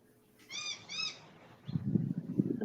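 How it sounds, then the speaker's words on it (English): Outdoors, a bird gives two short, bright, harmonic calls. A louder, rough, low-pitched sound follows close by, and no one speaks. "I hear the birds."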